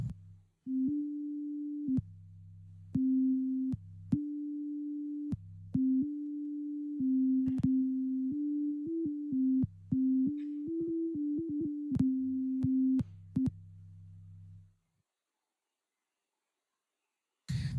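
An iPad data sonification plays pure electronic tones mapped to notes of a C major scale, a series of clean sustained beeps that step between pitches in an irregular rhythm, some brief, over a low hum, then stop.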